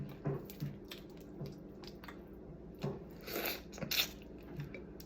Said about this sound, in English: I'm sorry for slurping, but, you know, with crawfish, you gotta do it.